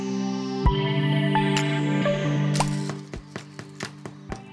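Knuckle knocks on the underside of a baked gluten-free bread loaf, a run of short hollow taps, several crisp strikes in quick succession near the end, close and fairly quiet over a faint tonal background.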